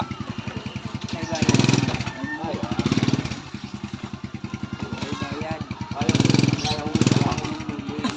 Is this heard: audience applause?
no